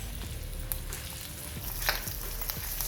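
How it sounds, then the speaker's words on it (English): Big pieces of onion fry in a pan for a chilli paneer, giving a steady close crackling sizzle with a few sharper pops throughout. "This is just to fry a bit to remove the raw taste of the onion."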